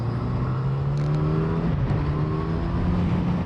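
A Yamaha FZ8 motorcycle engine, a 2012 50th anniversary model, drones loudly and steadily, its pitch rising gradually as it revs and pulls away, with no voices over it.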